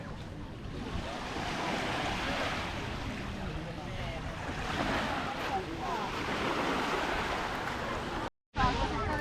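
Waves wash onto a beach in Sardinia, a broad continuous roar of surf with gusty wind buffeting the microphone, fairly loud and close, broken by one brief dropout near the end.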